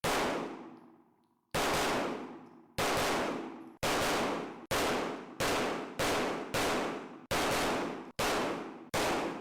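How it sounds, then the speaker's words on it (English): Stealth Arms Platypus pistol fired at an indoor range: about eleven loud, close shots with a booming reverberant decay, spaced widely at first and then coming in quicker succession. "I will surely never get used to the sound of shooting in an indoor range."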